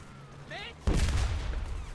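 A single loud, sharp gunshot-like blast from a video game cuts in after a faint whistling tone, its heavy rumbling tail carrying on to the end under a quiet background.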